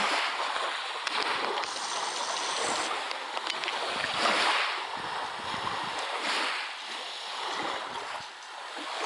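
Gentle sea waves wash onto the shore at Lazarevskoye beach on a calm October day, with soft, continuous surf swelling and receding in a steady rhythm and no voices.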